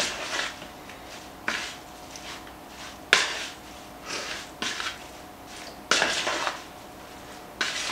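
Seasoned shrimp mixed in a bowl for coconut curry, giving soft wet squishes and several sharper clinks of a utensil against the bowl at irregular intervals, fairly quiet and close.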